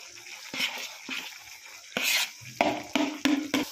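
Grated coconut being stirred into sugar syrup in a pan for coconut barfi, giving a series of soft scraping, sticky stirring strokes with light spoon clinks, close and fairly quiet.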